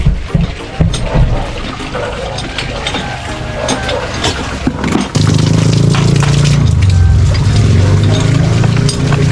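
Water pours steadily and loudly into chicken feed of ground water spinach and sweet potato, a rushing, splashing flow starting midway after some handling clatter.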